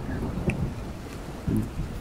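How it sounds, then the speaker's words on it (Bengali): Strong gusty wind with rain in Jashore, a steady rushing roar with rain noise and a couple of louder gust surges, fairly close and continuous. "অনেক জোরে জোরে বাতাসটা চলছে"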